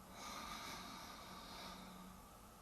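A long, airy inhalation through the nose during yogic breathing practice, steady and close, rising gently and holding for a couple of seconds with no talk.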